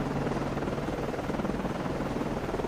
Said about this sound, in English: These are my 2 helicopters